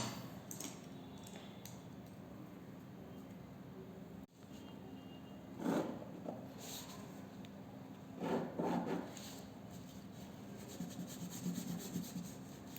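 An eraser rubs out pencil lines on paper on an isometric drawing, a faint scratchy scrubbing in short bursts over a steady low background hum.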